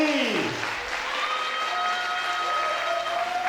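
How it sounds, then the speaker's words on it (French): Audience applause at a regional pageant crowning a young queen in Hauts-de-France, a dense wash of clapping filling the room steadily, with a few tonal sounds ringing over it and no talk. "Et comment fait-on pour les mettre à l'aise? On les applaudit."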